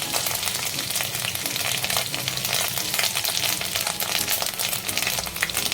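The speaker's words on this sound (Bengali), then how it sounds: "তেলটা গরম হলে এর মধ্যে আমি আদা রসুন কুচিটা দিয়ে দেব।" Chopped ginger and garlic fry in hot oil with a steady, dense sizzle that crackles and spits continuously at close range, with no voices.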